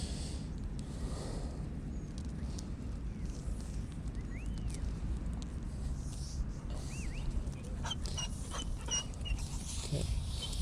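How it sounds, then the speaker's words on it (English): An excited American Staffordshire Terrier at a dog park gives a few short, high, rising whines over steady outdoor background noise, followed by some faint clicks and rustles near the end. "You might hear that whining."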